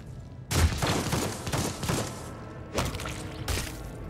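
Gunfire in the video game Warhammer 40K: Rogue Trader, one sharp blast followed by a rolling burst of shots, then two more quick bangs, loud and close with no talk.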